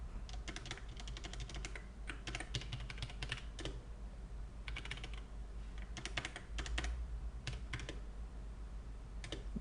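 Someone types on a computer keyboard at a terminal to log in to a vintage 4.2 BSD Unix system, producing quick bursts of close key clicks separated by short pauses, with no voices.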